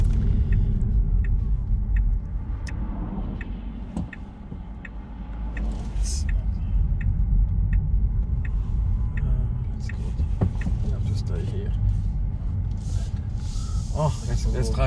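A car drives along a small road in Norway, its engine and tyres making a continuous low rumble with faint regular ticks and occasional light rattles.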